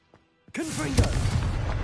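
A Confringo blasting spell goes off in Hogwarts Legacy, a sudden broadband burst followed by a sustained rumbling blast with a heavy low thump about halfway through, preceded by a couple of faint brief sounds.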